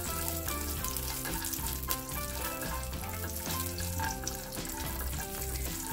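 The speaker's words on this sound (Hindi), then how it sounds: "इसमें मैं डालूंगी ये कुछ काजू बादाम, इसे मैं रोस्ट कर लूंगी" Cashews and almonds roasting in melted homemade desi ghee in a pan, a soft steady frying sizzle with gentle stirring scrapes, fairly quiet and continuous, no speech.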